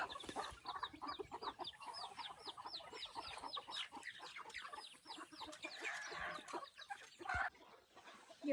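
Chickens cluck busily while being fed on a rural farm, with many short overlapping calls forming a steady, close, moderately loud chatter throughout.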